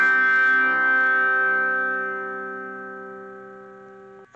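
A distorted electric guitar chord from a riff is struck and left ringing, sustaining and slowly fading in a reverberant wash, with a fresh pick attack right at the end.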